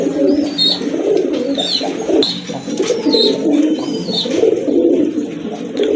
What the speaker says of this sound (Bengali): এখানে কিন্তু রাজগোল্লা একটা পেয়ার রয়েছে